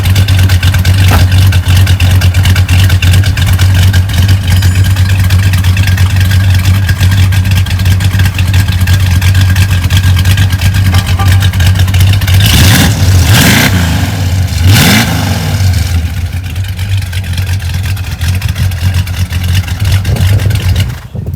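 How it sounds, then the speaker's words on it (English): A 1968 Plymouth Barracuda's 318 cubic inch V8 with a choppy cam runs loud and close, a lumpy steady idle broken by two sharp revs near the end before settling back down. "It's a 318 cubic inch engine, the base V8 for the year."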